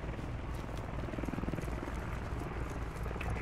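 Helicopter rotor thumping in a military video game, heard from inside the aircraft as a steady rapid chop over a dense engine roar, constant and fairly loud.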